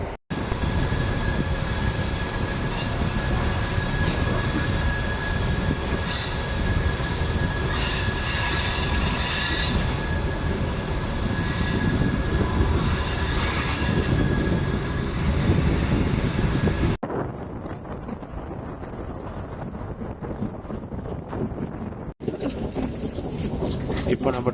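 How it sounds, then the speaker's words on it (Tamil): Ernakulam MEMU passenger train running on rails in Kerala toward mountain ranges, with loud continuous wheel squeal and rumble that drops abruptly near the end, with faint voices. "இப்போ நம்ம ட்ரெயின் போயிட்டுருக்கிறது"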